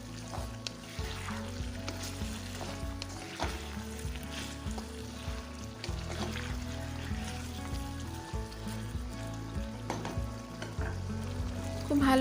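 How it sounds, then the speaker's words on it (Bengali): Chopped tomato stirred in a frying pan for a fish curry with drumsticks and katla, a steady sizzle under a rhythmic scraping of the spatula, close and moderately loud, with no talking. "দিয়ে দিলাম একটা কেটে রাখা টমেটো, আর একটু নেড়ে চেড়ে নেব"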